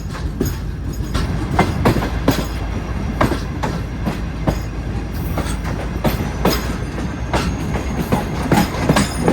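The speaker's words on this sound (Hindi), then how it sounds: "मीटिंग रेलवे स्टेशन पर ट्रेन निकल रही है" A train pulling out of a railway station on the Thar Desert route toward the India border, heard from aboard as a steady clickety-clack of wheels over rail joints with rattling and rumbling throughout.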